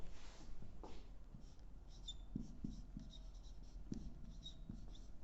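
A pen or marker scratches and taps across a chart in short strokes, quiet and close, with scattered soft contact sounds and no talk.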